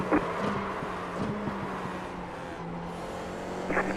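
Race car engines in the iRacing game play as a steady mechanical drone with short bursts of revving, holding a constant level throughout without speech.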